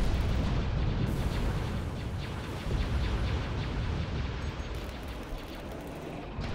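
Starship guns firing in a space battle in Star Wars: Ascendancy, a dense, continuous barrage of booming blasts and bursts filling the whole stretch at steady loudness with no talk.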